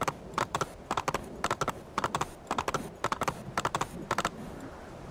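A horse gallops toward Florence in Assassin's Creed 2, its hooves clip-clopping in quick, rhythmic bursts of sharp beats, close and clear with no speech over them.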